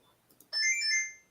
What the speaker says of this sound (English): let's see how Dave answers the phone.